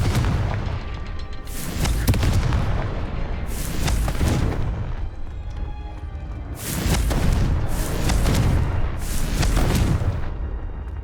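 Explosive spells go off in Hogwarts Legacy as a string of loud, booming blasts, about five to six separate detonations with rumbling tails spaced a second or two apart, and no talk over them.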